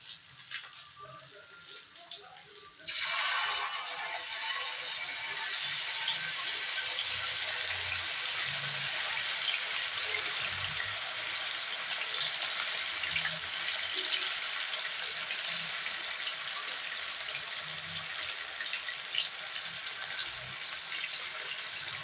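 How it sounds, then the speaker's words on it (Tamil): Marinated prawns hit hot oil and fry with a loud, steady sizzle that starts abruptly and holds as a dense, continuous hiss, close and without talk. "எண்ணெய் காய வச்சாச்சு இப்போது நம்ம கலக்கி வச்சுருக்கிற எறா அதை ஃப்ரை பண்ணலாம் வாங்க"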